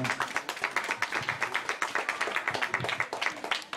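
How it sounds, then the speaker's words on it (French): A small group at a donation handover event in a classroom claps in quick, rhythmic unison, a soft and fairly distant patter of hand claps. "Je crois que ça mérite encore les applaudissements."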